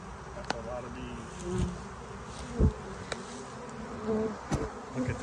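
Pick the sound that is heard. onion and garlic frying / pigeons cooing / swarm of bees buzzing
swarm of bees buzzing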